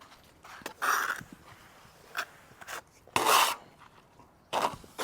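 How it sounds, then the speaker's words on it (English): Steel trowel spreading render onto a garden wall in short scraping, rasping strokes, several separate swipes with quiet gaps between, fairly faint and close. "So the first thing I'm going to do is just get the render on."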